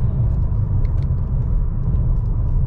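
A 2016 Mercedes-Benz E350 V6 engine runs with a loud, steady low rumble. It holds an even drone throughout, with no voices over it.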